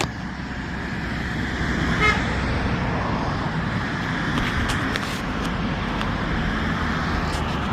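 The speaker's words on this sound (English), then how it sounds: "You can hear them honking" Steady traffic rumble outdoors with a few short car horn toots cutting through, one early and a cluster later, from a moderate distance.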